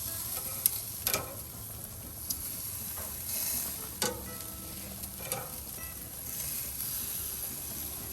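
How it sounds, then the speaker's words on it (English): Bacon sizzles steadily in a pan as it is flipped for an ostrich burger, a soft continuous frying hiss broken by a few sharp scraping clicks from the turner, close and fairly quiet. "let me go ahead and flip the bacon here"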